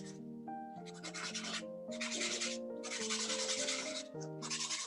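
A worn paintbrush scrubs thin oil paint onto canvas during an underpainting, in rough bursts of dry rubbing separated by short gaps, with soft tonal music underneath.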